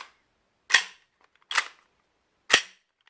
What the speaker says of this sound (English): without a suppressor on, it actually cycles remarkably quickly